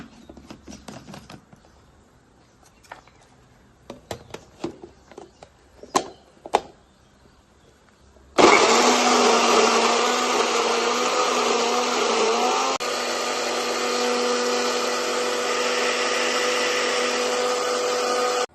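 A blender jar full of amla, beetroot, carrot and mint is handled with a few sharp knocks and clatters. Then the motor starts abruptly and roars loud and steady, with a slight shift in pitch partway through the run.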